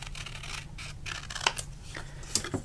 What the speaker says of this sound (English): trim from that mark to that mark, straight as possible.